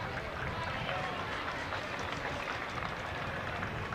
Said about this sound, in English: So a nice round of applause for Pape Diakite